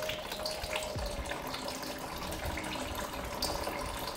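Gearbox oil drains from a VW/Audi DSG transmission during an oil change, a steady close pouring and splashing stream running continuously without pause.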